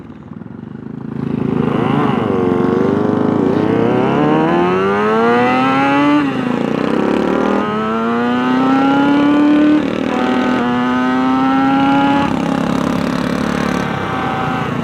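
A Griffin Custom TA125 tribute motorcycle revs up and down through the gears on a ride, its engine note climbing in repeated rising sweeps, loud and close, with wind noise underneath.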